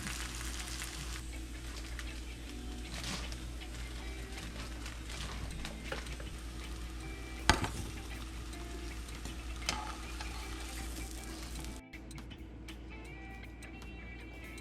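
Mahi-mahi pieces seasoned with cayenne pepper fry in a pan, a steady close sizzle with occasional crackles and a sharp tap. Near the end the sizzle stops abruptly, leaving quieter clatter.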